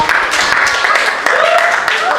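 An audience claps together at a classroom teaching practice session, a dense, steady burst of applause lasting about two seconds with a brief dip midway.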